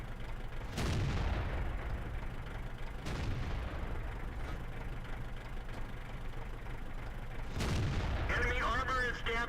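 AT7 tank gun firing in World of Tanks, three sharp heavy booms spaced a few seconds apart over a low idling engine hum, with faint game voice afterward.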